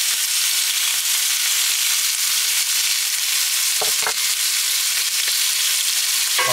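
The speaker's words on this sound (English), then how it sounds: "So I'm gonna put this meat in and I wanna sear it." Meat searing in hot chili-infused oil, a loud, dense, continuous sizzle and crackle close up, with a couple of brief scraping knocks partway through and no voices.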